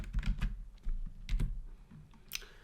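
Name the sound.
typing Python code on a computer keyboard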